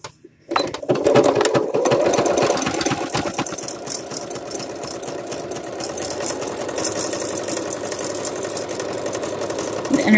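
A sewing machine stitches fabric backed with interfacing, starting after a brief pause and then running in a fast, steady, close mechanical whir with rapid needle chatter throughout.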